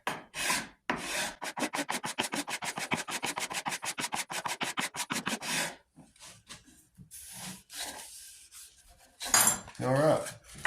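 A hand file rasps back and forth on a part for a .50 caliber St. Louis Hawken rifle, a fast, even run of close scraping strokes that pauses, then resumes with scattered irregular rubs and clatter.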